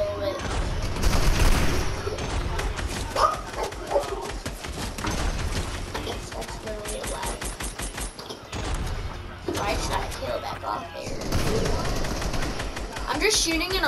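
Video game shooter gunfire against bots: nearly continuous automatic fire and rattling volleys fill the whole stretch, briefly dipping before resuming, with a player's voice talking over it.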